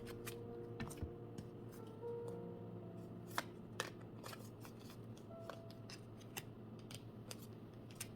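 Tarot cards are shuffled and drawn close by, with a run of crisp riffling snaps and brief slaps at irregular intervals over a quiet room tone, and no one speaks.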